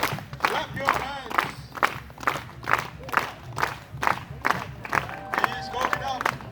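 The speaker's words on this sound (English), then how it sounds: "Put those hands together and clap." A crowd at the Polynesian Cultural Center in Hawaii claps along in a steady rhythmic beat, roughly two claps per second, with shouts and an announcer's voice over the clapping.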